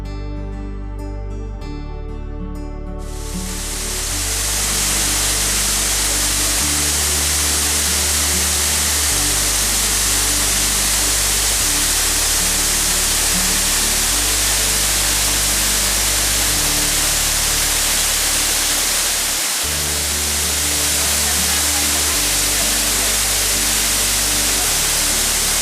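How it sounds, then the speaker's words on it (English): A constant, loud rush of falling water from the Balea waterfall on Romania's Transfagarasan road fills the scene, steady and broadband, with a low musical drone underneath after a brief quieter start. "This is the Balia waterfall."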